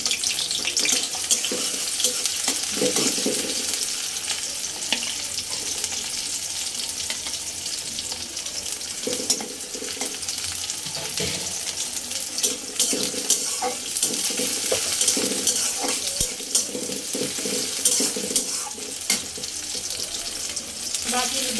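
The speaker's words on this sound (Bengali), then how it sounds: "শোল মাছ ভুনা করে নেব।" Snakehead fish (shol) stir-fries in a pan, giving a loud, continuous sizzle with irregular scraping and stirring bursts and no talking.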